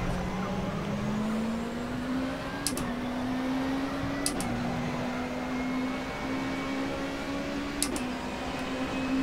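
A race car engine in the rFactor 2 racing game holds a loud, steady drone throughout, its pitch climbing slowly with brief dips at each gear change, and a few sharp clicks along the way.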